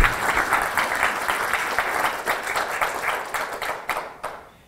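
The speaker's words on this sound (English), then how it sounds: "Can we please give them a round of applause for all the help that they give us?" Audience applause at a public health care advocacy meeting, a dense steady clapping that holds for several seconds, then thins and fades out at the end.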